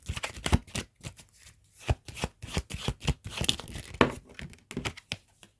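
Tarot cards picked and shuffled by hand, a quick irregular series of close, crisp riffles, flicks and slaps with short pauses between bursts.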